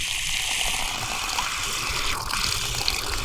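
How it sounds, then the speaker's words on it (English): On a rural California property, water gushes out of the ground in a steady, loud, close rushing wash that carries on without a break. "We've got water!"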